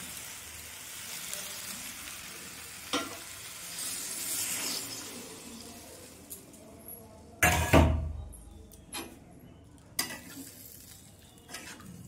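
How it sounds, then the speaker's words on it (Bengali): Chopped tomatoes are stirred and sautéed in a pan for a Bengali jackfruit and prawn curry, with a soft sizzle under scraping spoon strokes and a sharp, loud clank of utensil on pan partway through. "সবকে আমি নেড়ে চেড়ে আরেকবার ভালো করে কষিয়ে নেব।"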